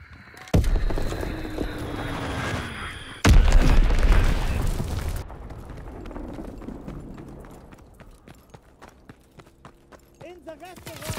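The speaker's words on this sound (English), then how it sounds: "Enemy bomb incoming. Get to cover." A bomb explosion in a video game: two loud, sudden blasts a few seconds apart, each followed by a rumbling roll that fades into scattered clicks and light rattles.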